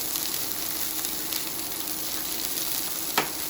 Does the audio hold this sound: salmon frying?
yes